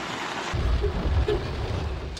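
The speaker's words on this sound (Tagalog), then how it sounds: "Bumuhos din ng malakas na ulan sa Metro Manila." Heavy rain pours in Metro Manila, a dense low rumbling roar of rainfall that swells after a brief lighter start and holds steady, loud and close with no talk.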